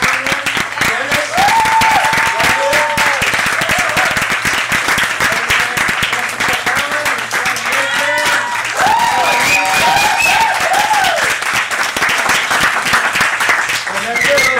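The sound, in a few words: workshop audience applauding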